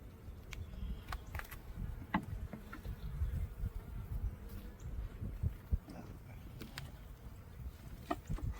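Honey bees buzz around an opened hive at a March inspection after winter, a soft, steady low hum close by with scattered small clicks and knocks of hive handling.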